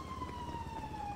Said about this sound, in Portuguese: Sirene, corre.